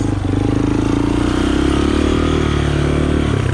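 A Yamaha Warrior 350 quad's engine revs loud and close in a steady, continuous drone for a few seconds while the machine is ridden on two wheels for stunts.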